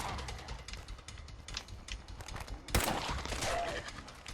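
Bursts of rapid gunfire from a Fallout 4 zombie apocalypse mod, a quick run of shots with one sharp loud crack near the middle, fairly close and unaccompanied by talk.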